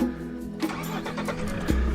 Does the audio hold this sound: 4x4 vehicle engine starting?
yes